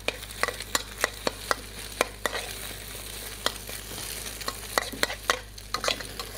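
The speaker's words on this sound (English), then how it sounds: "after you've got a little bit of edge on that egg, then you can fold in that sambal" Egg frying in a pan with sambal being folded in for nasi goreng, a steady soft sizzle under a low hum, punctuated by sharp, scattered clinks of a utensil against the pan.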